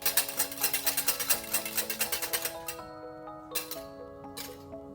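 Eggs mixed with onion oil are beaten in a bowl, a fast rhythmic clinking of utensil against the bowl that runs steadily, then slows to a few scattered taps before stopping.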